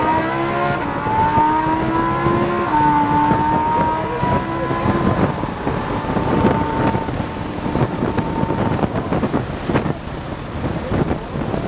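A car accelerating hard on a race track down the front straight, engine tone rising and holding under heavy wind buffeting, a steady loud drone throughout.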